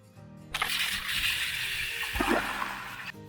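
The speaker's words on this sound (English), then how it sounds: "I decided to indulge in a nice hot shower with my new Camp Lux instant hot water" Steady hiss of a Camp Lux instant hot water camping shower spraying for about two and a half seconds, close and fairly loud, with splashing on the ground and a brief heavier splatter near the end, after a quiet start.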